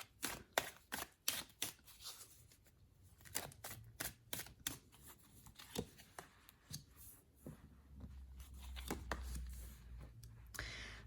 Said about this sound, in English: let's give the cards a good shuffle